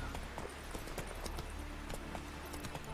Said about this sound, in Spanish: Que no quiero pisar a nadie con el caballo.